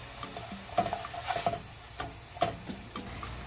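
Spatula stirring white onion with chicken powder and black pepper in a pan for a savory shrimp filling, with several soft scraping strokes over a light sizzle, close and fairly quiet, no talking.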